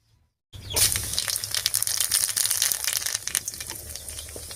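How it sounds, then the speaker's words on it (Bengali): Dry red chillies and black cumin hit hot oil left from frying fish, in a village-style kitchen, bursting into a loud, dense crackling sizzle after a brief silence and staying steady and close throughout. "এবারে মাছ ভাজার এই তেলের মধ্যেই ফোড়ন দেবো আর ফোড়ন দেবো দুটো শুকনো লঙ্কা আর কালো জিরা দিয়ে"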